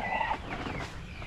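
A short burst of rooster clucking close by, a few raspy calls that fade quickly into background noise.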